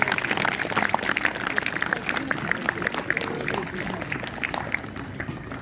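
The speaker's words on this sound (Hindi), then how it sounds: "और गार्जियन के लिए भी आप ताली बजाइए" An audience at a school blessing ceremony for class 10 and 12 students applauds the guardians, steady crowd clapping of moderate loudness with voices murmuring underneath.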